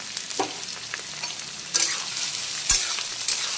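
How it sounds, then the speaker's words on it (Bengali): Chopped onion and slit green chilies fry in a pan for a Bengali prawn and coconut dish, giving a steady close sizzle with a few louder stirring scrapes and bursts, and no voices. "এখন বেশ কিছুক্ষণ সময় নিয়ে প্রথমে পেঁয়াজ কুচি আর চেরা কাঁচা লঙ্কাটাকে একটু ভাজা ভাজা করে নেব।"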